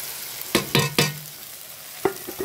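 Ground spice pastes of tomato, garlic, onion and green chili, with chili powder, salt and turmeric, stirred into chicken frying in a pan, a steady sizzle under a few sharp spoon scrapes close by, no talking.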